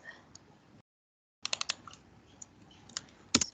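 Keys clack on a computer keyboard as code is typed, a quick burst of taps after a short pause, then scattered single clicks, close and fairly quiet with no voice.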